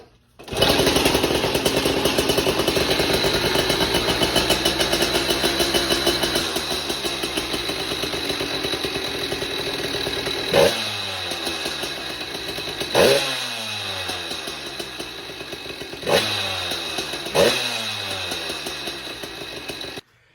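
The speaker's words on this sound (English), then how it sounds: "So that video that you just saw was of the stock ignition system, and it runs flawlessly." A motorized bike's two-stroke engine runs on its stock ignition without choke, buzzing steadily and loudly close by. The revs rise in a few sharp throttle blips near the end, and no one speaks.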